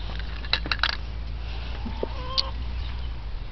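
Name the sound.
chickens clucking on a farm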